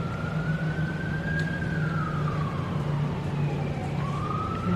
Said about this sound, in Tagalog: Halos everyday ata nakakarinig ako ng dumadang bumbero dito sa ano.